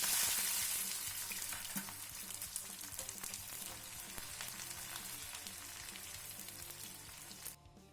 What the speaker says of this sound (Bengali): তেলের মধ্যে এবার পেঁয়াজগুলোকে লাল লাল করে ভেজে নিচ্ছি।